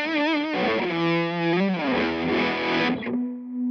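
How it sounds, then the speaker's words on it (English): Electric guitar played through a chorus pedal, wet and dry blended about halfway, sounds alone as sustained chords with a gentle wavering shimmer and slight grit, the last chord ringing out and thinning at the end. "Now you've got a chorus pedal."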